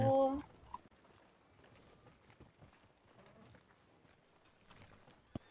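Horse hooves clip-clop softly and steadily on a path in the western game Red Dead Redemption 2, faint and somewhat distant beneath a low background, after a brief louder sound at the very start.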